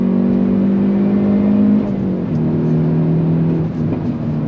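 Hyundai Veloster N engine pulling hard under throttle, a loud sustained rev that drops in pitch as the automatic rev-match downshifts, with a blip and steady engine whir after.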